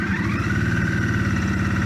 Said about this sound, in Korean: 병렬 2기통다운 사운드예요.